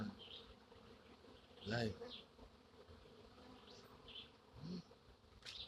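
A honey bee swarm in a hollow log hums faintly and steadily under a close outdoor recording, with a brief louder passage and a few short words spoken nearby.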